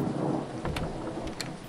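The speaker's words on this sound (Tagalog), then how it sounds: "Ang lakas ng kulog, kuya." A deep rumble of thunder rolls beneath heavy rain pouring down steadily, with a few sharper crackles breaking through the constant wash of rainfall.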